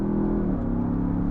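A Land Rover Defender Octa's engine holds a steady, loud mid-range hum under acceleration, a continuous drone with no distinct gear changes across a short stretch.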